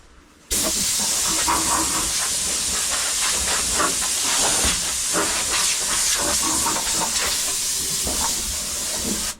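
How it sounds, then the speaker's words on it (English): A compressed air gun blasts a continuous loud hiss of air, steady and close, blowing dust out of a 1966 Ford F250 4x4, with faint clatter of debris underneath. "Let me grab an air gun, blow this out real quick."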